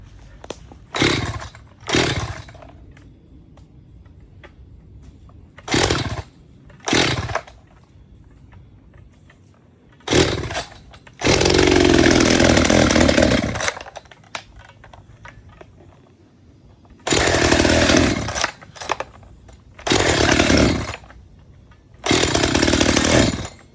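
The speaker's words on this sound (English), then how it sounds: "Just need to cut this little thing. I have more chainsaws" A chainsaw cutting wood revs loudly in repeated bursts, with a long sustained cutting roar in the middle and short idling gaps between.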